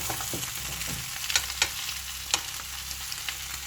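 Vegetables sizzle and crackle steadily in a hot pan while egg fried rice is cooked without a wok, with a few sharp stirring knocks standing out over the frying.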